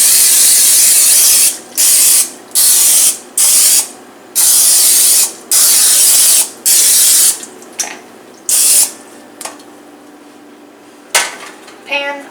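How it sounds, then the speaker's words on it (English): Cooking oil sprayed into a 9x9 pan in a row of loud, close hissing bursts, each about half a second to a second long with short pauses between, then a few fainter sprays and a light clatter. "I got my pan that I thrifted, my 9x9, so I'm going to oil it"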